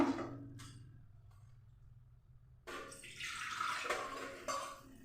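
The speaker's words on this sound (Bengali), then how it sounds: "এবার আমি দিয়ে দিচ্ছি পরিমাণ মতো জল দিয়ে দেবো" Water pours into a cooking pot of dal for boiling in a village kitchen, a steady close splashing stream that starts partway through after a quieter stretch and keeps running to the end.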